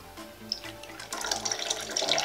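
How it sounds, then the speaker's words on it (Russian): Tea is poured into a cup at a home kitchen table after a batch of deep-fried potato and mushroom vareniki, a brief close trickle that swells into a louder, splashier stream over about two seconds. "Наливаем чай."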